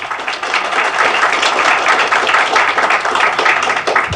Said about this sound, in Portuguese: vamos receber com aplausos o senhor Alberto Weitzman